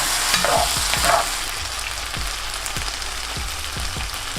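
Glazed food with chili sauce and pepper sizzles in a hot pan, and a utensil taps and scrapes in a slow, regular rhythm as it is stirred. The frying is close up, with no talking.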